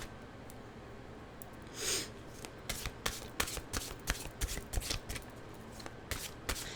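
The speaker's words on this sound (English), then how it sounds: "we will get our mystical wisdom cards out here" A deck of mystical wisdom cards is shuffled close by in a quiet room, with a soft rustle followed by a run of sharp, rapid riffling snaps.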